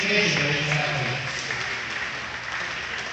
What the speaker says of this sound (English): Please join me in applause for your game officials